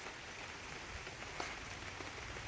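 Light rain falls steadily outdoors during a dog's bath, a faint, even patter with one slightly louder drop.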